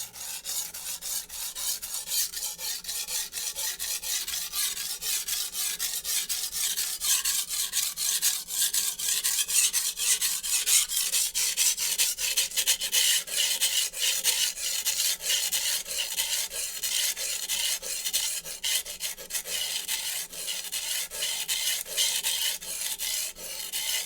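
A Wusthof chef knife is stroked across an ultra coarse Shapton Japanese whetstone in a steady rhythm of gritty rasping passes, close and continuous with no talking.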